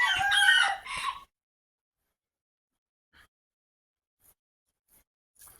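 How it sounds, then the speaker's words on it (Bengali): Rooster crowing at a fancy poultry farm, one loud harmonic crow in the opening second, then near silence broken by a few faint, brief clucks. "এটা মূলত আমাদের শৌখিন মুরগির খামার। এখানে আমাদের সব শৌখিন মুরগি রাখা হয়।"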